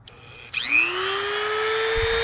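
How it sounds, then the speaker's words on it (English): A Dremel rotary tool spins up and cuts into an Insta360 camera lens, a loud steady whine that rises in pitch at the start and then holds, running continuously without voices. "Alright, let's commence the cutting. I've already got my Dremel set up."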